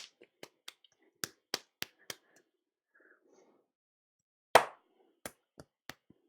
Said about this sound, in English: this is the best way to do it, is to essentially slap the clay.